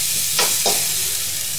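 A spoon stirs instant noodles frying in a pan in a Bangladeshi home kitchen, two quick scraping strokes over a continuous sizzle.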